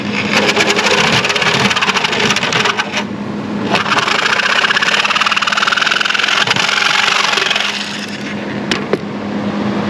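A power tool fitted with a common off-the-shelf all-purpose metal-cutting blade saws through fiberglass: a loud, steady buzzing whine runs nearly continuously for about eight seconds, then cuts off, leaving a few faint knocks.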